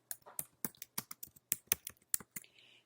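Typing on a computer keyboard, about a dozen crisp, close key clicks in an irregular quick rhythm against near silence, ending with a faint soft hiss.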